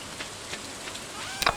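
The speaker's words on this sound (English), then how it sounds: "I'm getting rained on." Steady rain falls in the Stardew Valley farming game, a soft continuous patter with a brief cluster of sharper splashes near the end, fairly quiet throughout and with no talking.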